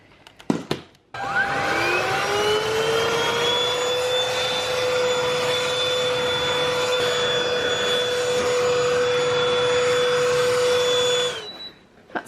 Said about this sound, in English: it's hoovering time now